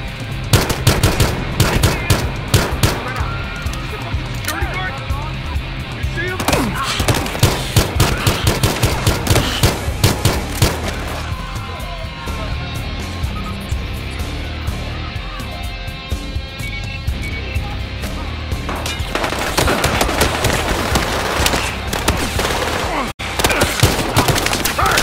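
Gunfire in the video game Battlefield Hardline, sustained bursts of machine-gun fire and rapid gunshots rattling almost continuously, loud and dense, with a brief lull before the firing resumes.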